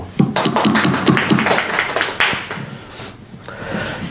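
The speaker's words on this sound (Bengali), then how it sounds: "আর আমাদের মাঝে এইরকমই একজন বোন আজকে উপস্থিত আছে, তার জন্য আমরা একটু সবাই হাততালি দেব" An audience claps for a woman date farmer at a gathering on Saudi date farming in Jamalpur, a ragged burst of many hands that swells, trails off and picks up again.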